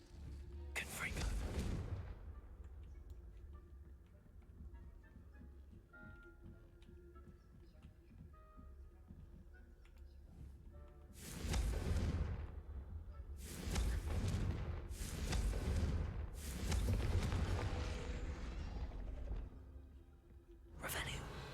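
Explosive Confringo spell blasts in Hogwarts Legacy: one sharp burst early, then a quick cluster of four loud booming impacts over a quiet ambient bed with a faint ticking pulse.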